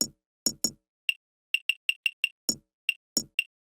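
Two little bell-style percussion sounds from a deep house groove trade off against each other: bright metallic pings ticking in a quick pattern, interleaved with fuller knocking hits, alone and fairly close.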